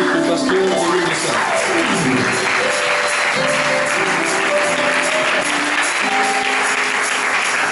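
Applause from a church congregation at a Sunday service, steady and sustained throughout, mixed with music and voices.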